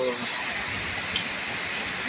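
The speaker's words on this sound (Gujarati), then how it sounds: "ધોધમાર વરસાદ પડી રહ્યો છે" Dense, steady monsoon rain pouring down on farmland in Gujarat, India, with a constant broadband hiss, close and loud, lasting the whole short stretch.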